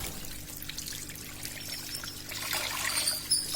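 Water pours and trickles steadily as a koi fish tank is refilled after cleaning, a soft, fairly quiet splashing that grows slightly brighter and fuller toward the end.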